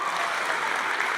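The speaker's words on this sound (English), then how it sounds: "Let's give this table a big round of applause." A room full of guests at a benefit gala applauds, a steady, dense wash of clapping at even loudness with no pauses.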